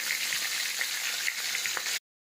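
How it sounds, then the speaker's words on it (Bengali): A hilsa fish head frying in hot oil gives a steady, fairly loud sizzle with fine crackling, running unbroken until it stops abruptly near the end. "ইলিশ মাছের মাথাটা ভেজে নিচ্ছি"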